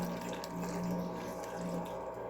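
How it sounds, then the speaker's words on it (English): Tap water pours into a container of vegetables in a home kitchen, a steady close rushing stream lasting the whole moment, with no talking. "Add some water in."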